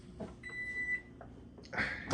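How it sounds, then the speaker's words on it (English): A single steady electronic beep, thin and high-pitched like a pager, lasting about half a second, followed by some faint clattering, in a hotel room at Homewood Suites Baton Rouge. "It's like somebody lost a beeper and somebody paged it, and now it's going to beep every minute"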